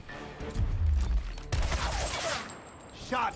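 Gunfire in the Gears Tactics video game: a short burst of heavy shots followed by a louder second volley and a clattering tail, close and punchy.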